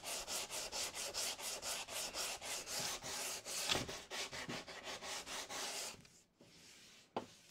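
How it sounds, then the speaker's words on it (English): A cork sanding block rubs back and forth by hand over plywood in quick, even strokes. The rhythmic scratching is close and steady, then pauses briefly before a final stroke. "A cork block is best because it'll follow the contours."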